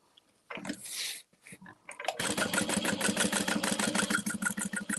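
A sewing machine stitching around the overlay on a Scoops Ahoy tote bag, a brief whir and pause followed by a sustained rapid rattling run of stitches, close and steady.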